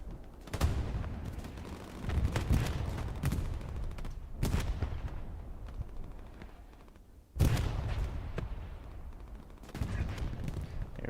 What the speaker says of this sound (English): Artillery barrage comes in.